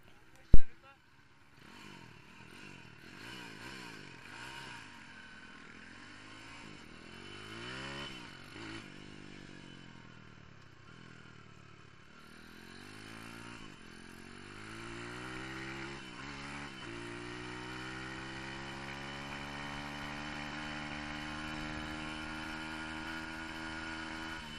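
A YCF pit bike engine with a faulty carburetor runs after a sharp start, its note rising and falling through repeated revs and settling into a steady higher drone, moderately loud and close.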